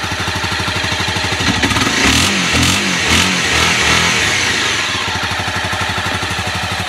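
A 2012 Honda CBR250R fuel-injected motorcycle engine running right after a cold start, a loud, close, steady thumping idle that briefly rises into a fuller, faster rev midway before settling back to the rhythmic idle.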